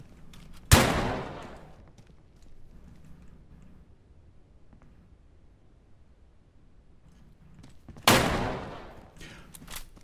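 Two loud, close bursts of gunfire in the video game Deadside, one near the start and one near the end, with a sharp attack and a long decaying tail. A quiet lull sits between them.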